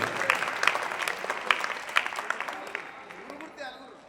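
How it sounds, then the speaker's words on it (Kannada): Loud applause rises from the crowd at a temple auction of cradle items, a dense patter of clapping with sharper bursts that gradually thins and fades over about four seconds. "ಜೋರಾದ ಚಪ್ಪಾಳೆಗಳು ಬರಲಿ."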